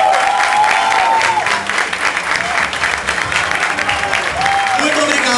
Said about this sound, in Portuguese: os aplausos para essas pessoas que fizeram parte do nosso espetáculo